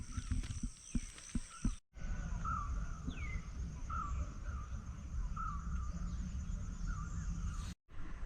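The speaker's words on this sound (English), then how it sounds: "Birds were singing" Birds call repeatedly on a mountain morning walk in the Sri Lankan hills, short clear chirps spaced every second or so over a low steady background rumble, with a few sharp knocks at the start and two brief cut-outs.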